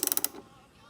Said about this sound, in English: the only thing holding the wheel on is, in our case, a 17mm nut, which Isaiah is gonna remove now.